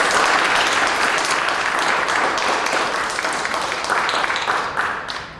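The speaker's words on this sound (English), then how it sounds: "I would like to actually give yourselves a round of applause." An audience at a campus awards ceremony applauds itself, a full, loud wash of clapping that continues steadily and tapers slightly toward the end.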